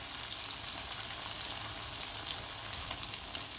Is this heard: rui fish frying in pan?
yes